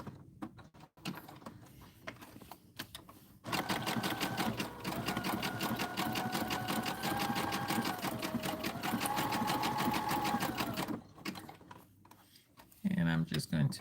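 A sewing machine stitches zigzag rows across a Halloween fabric postcard in a sustained rapid mechanical whir for several seconds, close and fairly loud, with quieter handling noises before and after and brief speech at the end.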